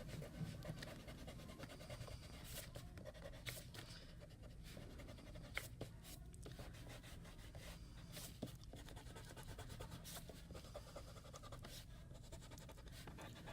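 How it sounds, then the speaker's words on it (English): Pencil guidelines being erased on paper, a continuous close rubbing and scratching with rapid back-and-forth strokes, quiet and unbroken, with no voice. "So along with erasing the guidelines inside the cube, I'm also erasing my lines that went to the vanishing points"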